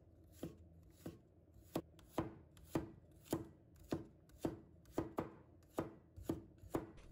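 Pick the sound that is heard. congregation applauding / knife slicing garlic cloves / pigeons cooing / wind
knife slicing garlic cloves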